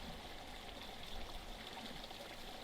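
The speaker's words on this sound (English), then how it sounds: "If we're really quiet, you can hear the brook roaring behind us." A brook in the Roaring Brook area, near old stone structures built to protect a spring, gives a steady, faint rushing of flowing water that runs unbroken and alone throughout.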